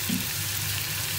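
Stir-fried vegetables with spring onions sizzle in sesame oil, a brief, close, even hiss with a low hum beneath and no voices.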